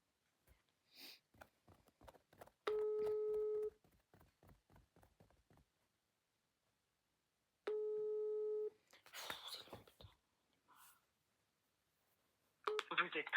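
Telephone ringback tones while waiting for an answer, two long steady beeps separated by a pause, with keypad tones, rustling and handling noises between them and no speech.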